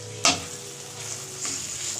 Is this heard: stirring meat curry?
yes